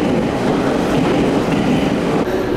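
A loud, continuous rumble of a train arriving at Nagoya Station, with rhythmic wheel clatter and no voices.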